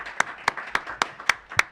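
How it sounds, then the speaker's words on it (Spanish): Audience applause at a televised law and sport talk show, heard here as a steady run of sharp claps about every quarter second, close and distinct with no talk over them. "Por favor, un fuerte aplauso"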